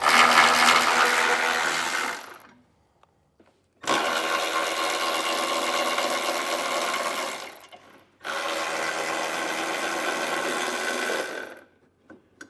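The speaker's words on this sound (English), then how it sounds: "So I'll grab my socket and get them pulled out." A socket wrench removes 14 mm bolts from the frame of a 2017 Infiniti Q50, making three long, steady, buzzing mechanical runs with quiet gaps between them.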